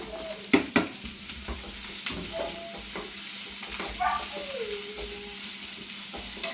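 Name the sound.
onion frying and sizzling in a pan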